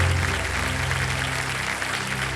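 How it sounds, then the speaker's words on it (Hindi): Studio audience at a Hindi quiz show, Kaun Banega Crorepati, breaking into sustained applause, a dense wash of clapping that fills the whole stretch and fades slightly at the end. "तालियां बज जाए।"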